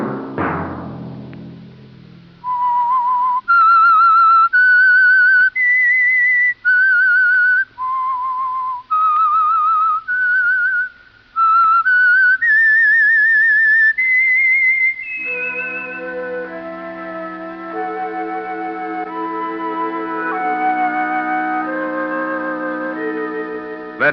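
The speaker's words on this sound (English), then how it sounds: "Let that whistle be your signal for the Signal Oil program, The Whistler" The theme of The Whistler radio program is whistled as a lone, clear, echoing melody of sustained notes. Sustained orchestral music then takes over and carries on beneath it.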